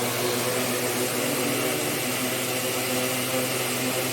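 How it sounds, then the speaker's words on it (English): Several drone motors spin at raised speed together, a steady broadband whir with faint tonal hum, constant and close with no talking. "The RPM for each motor shows in the GUI, and all the motors are rotating"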